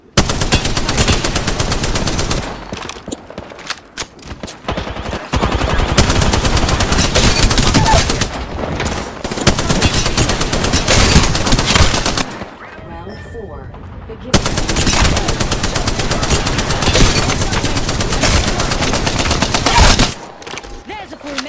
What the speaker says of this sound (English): Getting shot at. Look down. Contact with target. They spotted me. I'm taking shots. Taking fire.